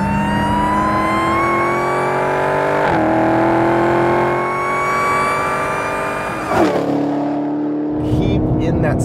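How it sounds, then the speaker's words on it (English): A 2015 Dodge Challenger SRT Hellcat with a supercharged 707-horsepower engine accelerating hard, its loud blower whine climbing in pitch through gear changes, with a brief drop between shifts and a voice faintly underneath. "The blower whine sounds so cool"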